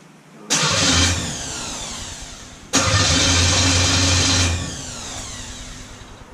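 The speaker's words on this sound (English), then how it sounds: "Okay, starter's hooked up. We're gonna try it." A V8 in a 1958 Chevy Biscayne cranks and catches twice, each start a loud broadband burst settling into a rough idle, with a short pause between attempts and the engine running on more quietly afterward.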